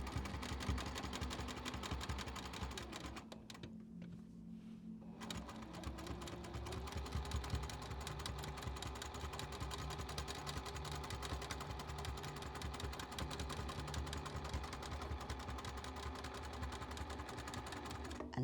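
A home sewing machine runs steadily through machine-quilting stitches on a quilt sandwich, with a short pause midway before the close, continuous motor whir and needle rattle resume.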